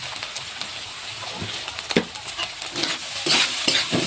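A filling with coriander leaves, green chilli and turmeric powder sizzles and fries in a pan while being stirred, with steady frying crackle and intermittent scraping strokes of the spoon, close and fairly loud.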